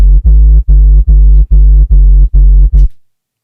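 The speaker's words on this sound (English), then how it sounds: "Without noise, it sounds like this." Deep synth sub bass from a riddim drop plays eight clean, evenly spaced notes, loud and smooth with no hiss, ending abruptly.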